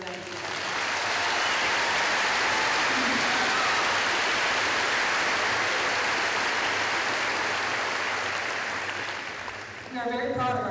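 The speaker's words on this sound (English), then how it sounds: "Please join me in a round of applause for these caring young people" A graduation audience at Davison High School breaks into long, loud applause, a thick roar of clapping that swells quickly, holds, then fades near the end as a voice begins.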